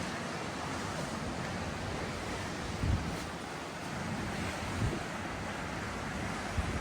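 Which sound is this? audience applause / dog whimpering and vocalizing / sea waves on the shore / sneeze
sea waves on the shore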